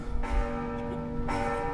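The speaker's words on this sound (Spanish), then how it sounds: "esperar a que terminen de sonar las campanas" Church bells ring in Xalapa, giving a sustained, resonant metallic toll with a long humming decay, fairly loud and steady, and a second strike arriving partway through, with no voices.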